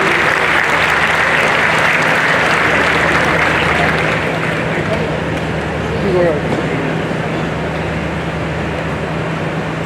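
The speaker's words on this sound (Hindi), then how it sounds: "जोरदार तालियों की आवाज के साथ" Steady, dense applause from a large crowd at a roads congress session in Raipur, India fills the whole stretch, with a faint low hum running underneath.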